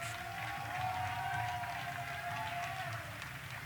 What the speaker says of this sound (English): we have the Slovenians on the bridge cheering on their junior barebow boys